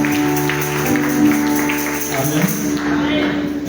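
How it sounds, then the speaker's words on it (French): A church congregation at a charismatic Christian seminar applauds, steady clapping spread through the room under a sustained musical tone, with voices mixed in. "acclamons encore la savante"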